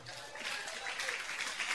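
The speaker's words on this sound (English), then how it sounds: "I thought you'd clap." Church congregation at a youth camp gives a short burst of clapping, a moderately loud, steady patter lasting under two seconds.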